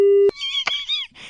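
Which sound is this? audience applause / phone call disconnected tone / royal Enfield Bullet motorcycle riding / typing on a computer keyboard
phone call disconnected tone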